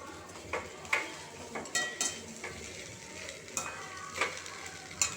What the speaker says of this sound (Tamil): அதை போட்டுட்டு நல்லா முட்டையோடு கொஞ்சம் நல்லா பரட்டி வச்சுட்டு